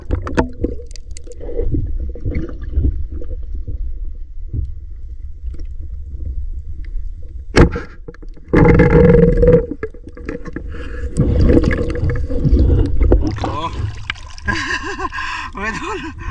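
Strong wind and rough waves buffet and rumble around a small fishing boat out at night, with loud gusts and sloshing water while people talk on board.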